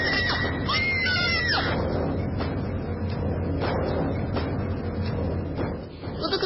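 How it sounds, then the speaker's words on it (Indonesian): A woman screams hysterically during a haunted-location courage-test shoot, with a few loud, wavering cries early on, followed by repeated thuds and knocks like banging doors under a constant noisy background. "Indah pun teriak histeris."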